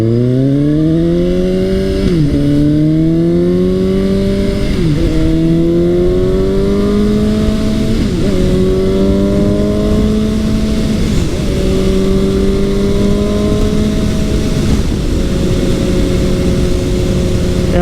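A Suzuki GSX-S750 motorcycle accelerates hard, its engine note climbing steadily and dropping briefly at each gear change, loud and close with no talk.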